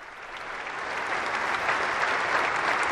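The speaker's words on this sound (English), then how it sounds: "The Holy Father smiling and receiving their applause." Standing applause for the Holy Father at Vespers with bishops, priests, deacons and seminarians, a large crowd clapping in a dense, swelling wash that grows slightly louder and holds steady.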